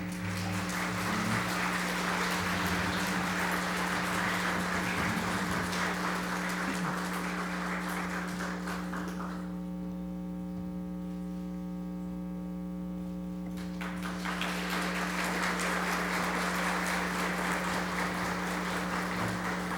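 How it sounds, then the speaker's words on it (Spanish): A crowd applauding at a recognition ceremony during a legislative institute conference. Dense, continuous clapping sits over a steady electrical hum, drops away for a few seconds midway, then swells back up and carries on to the end. "Un aplauso, por favor."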